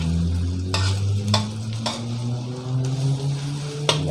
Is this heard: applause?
no